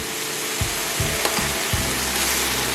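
Wagyu beef steak sizzles on a hot cooking surface, a steady loud hiss of frying fat with a few soft scraping or stirring knocks near the start.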